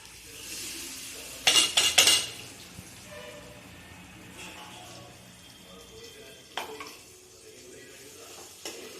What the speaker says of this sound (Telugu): ఇది కొంచెం మనకి నూనె తేలేనంత వరకు అయితే ఫ్రై చేసుకోవాలండి